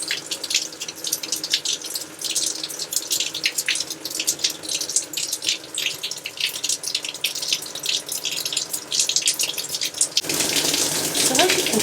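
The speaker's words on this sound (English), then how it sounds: "the shower pressure just gets worse and worse and worse." A weak campsite shower runs as a continuous hiss of falling water with small splashes, steady and close for about ten seconds before the spray brightens and thickens near the end.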